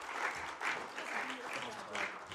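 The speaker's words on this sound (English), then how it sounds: "Can we have a warm round of applause for Jess as she makes her way up on the stage?" An audience at a security conference applauds as a speaker walks up to the stage, a steady wash of clapping with gentle swells, moderately distant and unaccompanied by speech.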